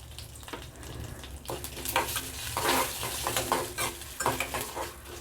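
Urad dal and a pinch of asafoetida sizzle in hot oil as a tempering for quick tomato chutney, with steady frying crackle and intermittent spoon stirring scrapes against the pan, close and moderately loud.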